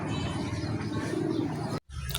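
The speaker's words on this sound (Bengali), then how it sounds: "তো প্রথমে আপনারা দেখতে পাচ্ছেন এক জোড়া ইউনিক কবুতরের কালেকশন" Pigeons, a pair of pet birds, cooing in soft low repeated murmurs close by, steady for about two seconds before a brief gap, with no talk.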